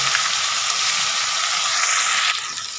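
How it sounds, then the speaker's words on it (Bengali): Two large chopped onions fry in hot oil for a mutton curry, giving a steady, close, hissing sizzle that softens slightly near the end, with no voices. "পেঁয়াজটাকে একটু ভালো করে ভেজে নেব যতক্ষণ না অবধি পেঁয়াজটা লাল হচ্ছে"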